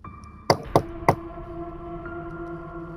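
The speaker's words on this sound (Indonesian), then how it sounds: "Di depan pintu, mereka mengetuk pintu." Three sharp knocks on the wooden door of a house on a fishpond, spaced about a quarter second apart, loud and close, followed by a steady low tonal hum with no voices.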